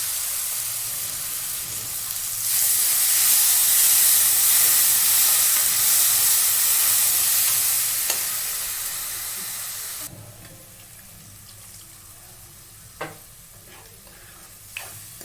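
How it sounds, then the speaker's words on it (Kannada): Green peas and ground masala paste fry in a pan for a paneer masala, a loud steady sizzle and hiss that suddenly drops to a quieter simmer with a couple of light clinks near the end. "ಬಟಾಣಿ ಫ್ರೈ ಮಾಡ್ಕೊಳ್ಳೋಣ"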